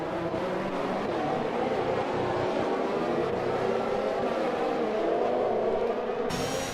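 Onboard engine of an Alpine Formula 1 car in the F1 2021 video game at the Azerbaijan Grand Prix, a continuous loud whine with pitch rising and falling through gear changes.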